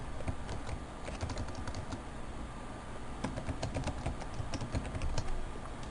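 Quick, light keystrokes clatter on a computer keyboard as a room name is entered, a steady flurry of soft clicks heard close and fairly quiet, without talk.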